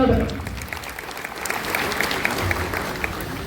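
An audience at a smart card distribution and welfare scheme awareness event applauds the labour minister with a sustained, fairly loud wash of clapping that carries on evenly throughout.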